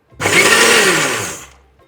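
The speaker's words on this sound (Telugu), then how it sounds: "ఇప్పుడు వీటిని మనం మిక్సీ పట్టేద్దాం." A mixer grinder whirs loudly as it blends ragi powder, cut bananas and almonds, a single burst of close motor noise that starts suddenly and winds down after about a second and a half.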